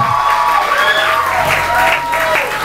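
An audience at a hypnotist show for a high school project graduation applauds and cheers, a loud burst of clapping mixed with whoops and shouting voices that fills the room for a few seconds.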